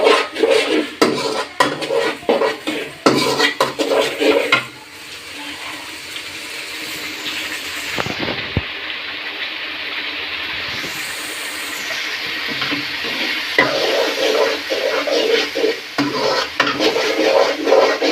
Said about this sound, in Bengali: এবার সবগুলো একসাথে ভালো করে কষিয়ে নেব।